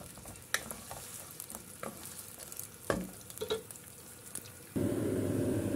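Chopped red onion hits hot oil in a pan and stirs with a spoon, scattered scraping and clinking giving way to a steady, louder sizzle near the end, fairly quiet and close.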